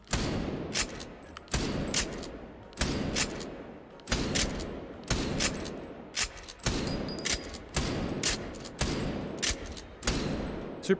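A 30-30 repeater rifle in the VR shooter H3VR fires about ten evenly spaced shots, each loud crack followed by the clack of the lever action cycling, a steady rhythmic sequence with no talking.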